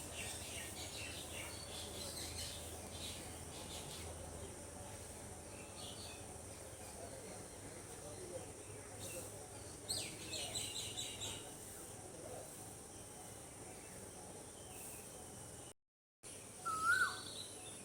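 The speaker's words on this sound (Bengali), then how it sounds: "কোকিলের ডাক শুনতে পাচ্ছেন?" A koel calls in the early morning, faint and distant over a hushed background of soft insect and ambient noise, with a few scattered chirps and a brief dropout near the end.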